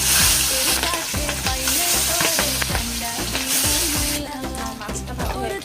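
Pabda fish frying in hot soybean oil, a loud steady sizzle and crackle filling the pan with busy stirring and clatter throughout, close and continuous with no talk.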